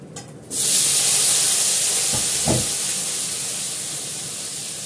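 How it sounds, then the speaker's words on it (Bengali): Potato dropped into hot oil in a home kitchen bursts into a loud, steady frying sizzle, a broad hiss that starts abruptly and holds close up with only a slight fade. "একটু তেল দেবো এর মধ্যে, দেবো আলুটা"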